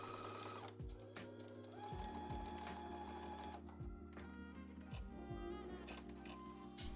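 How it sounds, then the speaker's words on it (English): A sewing machine runs close by, stitching down pocket bags on a summer skort with a 3/8 inch seam, a steady whirring hum with brief pauses and pitch dips as it slows and restarts. "Then you'll sew down both of the pocket bags with a 3/8 inch seam allowance."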